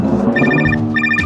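A phone rings loud and close in a short, repeating electronic trill of bright, evenly pulsed tones.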